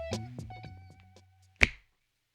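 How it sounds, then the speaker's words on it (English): A single sharp finger snap rings out close and alone after a brief stretch of faint tonal background sound, then quickly fades to silence. "When I snap my fingers, you can wake up"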